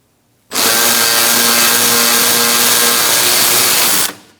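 A power tool drives out a front bolt on a 2002-2006 Honda CR-V during starter replacement, a loud steady whir with a ringing tone that starts abruptly, holds for about three and a half seconds, then winds down.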